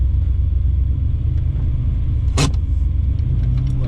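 A Ford Capri engine idles close by with a steady, low rumbling throb, and a short sharp noise breaks in briefly partway through.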